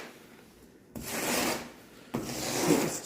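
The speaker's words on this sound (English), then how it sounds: "Just squeegee everything down. All this snow out of the way." A squeegee pushes snow across a garage floor in two distinct scraping strokes, each a rough, hissing rub that starts abruptly and sustains, quiet and close.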